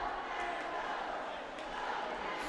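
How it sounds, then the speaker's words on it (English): Crowd at a hockey game chanting "Go Cats" for the Cataracts: a dense, sustained roar of many voices from a distant arena crowd, steady and continuous. "Go Cats, go chant going."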